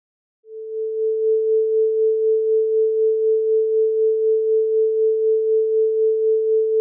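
A pure steady Moog analog synthesizer oscillator tone starts abruptly and holds, its loudness pulsing gently and evenly in a tremolo while the pitch stays fixed.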